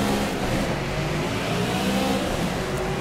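A BMW M3 GT4 race car at the start of a Dubai GP race in Project Cars roars steadily and loudly as it accelerates, a dense, unbroken engine drone that fills the whole moment.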